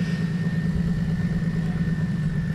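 A Porsche engine idles at a car meet, a steady, close, low throbbing hum with an even mechanical pulse and no talk over it.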